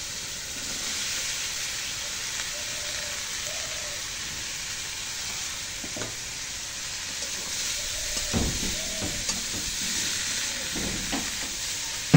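Vegetables fry in hot oil with onion and chili, a steady broad sizzle throughout with a few clinks and stirring knocks near the end, no voices.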